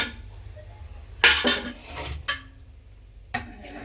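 Pre-soaked rice tipped into a pot of boiling water for biryani, with clattering pot and utensil knocks in a few sharp bursts over a low steady bubbling background.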